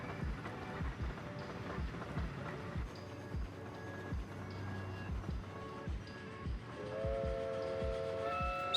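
A train stands and moves at Leeds station in the Transport Fever video game, with steady rhythmic clicks of wheels over rail joints under a low rumble, joined by a sustained tonal hum toward the end.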